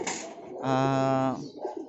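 A pigeon in a loft gives a single soft, throaty coo nearby, with faint bird sounds around it.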